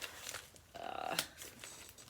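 A sealed plastic bag of embroidery floss crinkles and crackles as it is handled and opened, a close, busy rustle with one sharper tearing burst in the middle.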